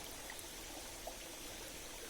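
Water flows steadily where three streams meet outdoors, a continuous broad rushing and trickling wash with no pauses.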